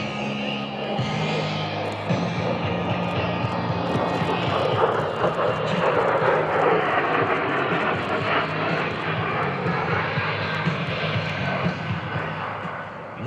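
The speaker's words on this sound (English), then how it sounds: "the A-10 Thunderbolt 2" An A-10 Thunderbolt II jet roars past at an airshow, a loud continuous engine drone that swells and holds steady for several seconds, with an announcer's voice and crowd murmur mixed underneath.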